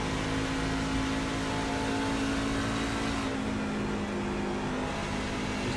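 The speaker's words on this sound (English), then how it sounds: "You hear the engine thrumming through turns 3 and 4." Racing truck engine thrumming steadily on a track through turns, a loud continuous in-cab drone with a sustained low tone and a slight shift in pitch midway.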